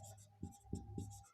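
Short scratchy strokes of writing on a board during a maths lesson, three or four quick marks close up over a faint steady hum, with no talking.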